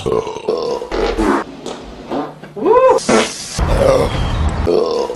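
A man lets out a loud, drawn-out burp, croaking and guttural with a grunting edge, close to the ear, amid brief bits of his own talk and breathing.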